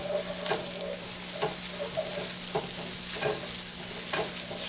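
A teaspoon of butter melting into olive oil in a hot pan, making a bright, steady hissing sizzle with a few soft clicks at intervals, close and continuous, with no voices.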